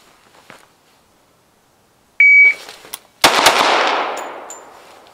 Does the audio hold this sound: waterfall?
no